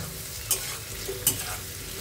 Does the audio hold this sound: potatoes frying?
yes